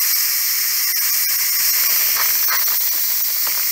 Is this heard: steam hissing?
yes